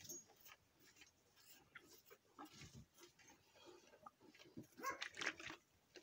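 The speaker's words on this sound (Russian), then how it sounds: "Там Джися лает." A dog barks several times at a distance amid farmyard noise while a calf is fed, with grunting animal sounds and faint background activity.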